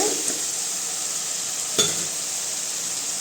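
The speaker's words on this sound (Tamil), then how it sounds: "தக்காளி நல்லா வதங்கிருச்சுங்க எண்ணெய் பிரிஞ்சு வர அளவுக்கு" Tomatoes sauté in oil in a pan for a goat intestine curry, with a soft, even sizzle running close by and one sharp spoon tap partway through.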